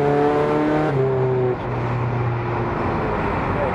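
A tuned 386 bhp VW Caddy van with a 2.0 TDI common-rail engine, DSG gearbox and 4Motion accelerates hard, its engine note loud and rising through a gear change, heard from inside with steady road roar.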